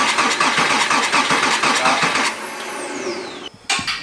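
A Porsche Cayman S engine cranks on the starter during a compression test, a rapid rhythmic chugging for about two seconds, followed by a falling mechanical whine as it winds down and a brief clunk, close by.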